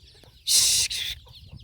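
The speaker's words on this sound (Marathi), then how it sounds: "कोंबड्या ओरडतात" Chickens cluck outdoors near a tree, with one loud, raspy squawk lasting under a second, a shorter call right after, and then only faint background chirps.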